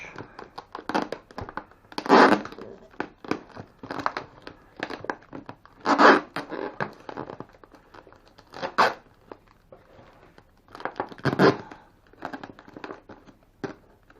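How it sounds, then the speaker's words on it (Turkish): Wide adhesive tape is torn and cut while fig cuttings are prepared for rooting, giving several sharp ripping bursts spaced a few seconds apart, close and fairly loud, with softer crinkling and handling noises between them. "bantımızı kesiyoruz"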